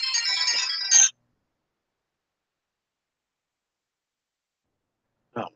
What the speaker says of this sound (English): Let me turn my notifications down.